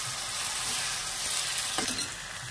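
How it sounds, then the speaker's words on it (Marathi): Crushed ginger, garlic and green chilli paste sautés in a hot pan for a prawn curry, giving a steady close sizzle with a brief stirring clatter near the end. "अद्रक लसूण मिरचीचा ठेचा त्याच्यात मी टाकत आहे। हे जरा परतवून घेत आहे।"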